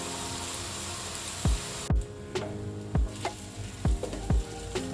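Onions frying in oil until golden brown, a continuous soft sizzle with repeated sharp spoon taps and scrapes against the pan, spaced irregularly, close by.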